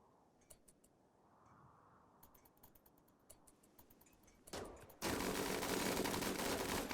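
Rimworld raid gunfire: a scatter of faint, sharp clicks and shots from small mechanised units, followed by a sudden jump into a dense, loud burst of continuous noisy fire lasting the final two seconds.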